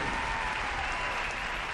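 Executives applaud a speech by Dr. Otto Octavius in the Spider-Man video game, a steady, dense clapping from a crowd that holds evenly throughout with no voices over it.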